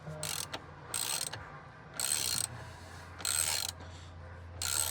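A ratchet cranks a bolt tight on a 2018–2022 Honda Accord steering wheel, with quick clicking bursts in four or five pulls separated by short pauses, close and clear, with no talk.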